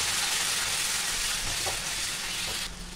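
Soaked masala spices sizzling in hot oil in a pan while cooking katarua sabzi, a steady dense frying hiss that carries on evenly and eases slightly at the end.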